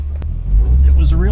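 A big old car with a manual column shift drives along, its engine rumbling low and steady throughout, with a brief knock near the start and faint voices under the road noise.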